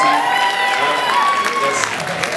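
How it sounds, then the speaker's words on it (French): A crowd applauds the jury at a dance festival: broad clapping with some cheering and whistle-like tones, close and loud, with voices mixed in throughout. "On les applaudit."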